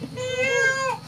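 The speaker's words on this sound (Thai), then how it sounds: "แมวไอซูกินอาหารเซเว่น" A cat meows once, a clear, close, drawn-out tonal cry lasting about a second over faint background noise.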